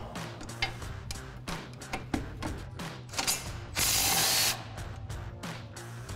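A hand ratchet with an 18mm socket clicks in quick repeated bursts loosening Mustang strut mount bolts, close and crisp, interrupted by a short hissing spray burst.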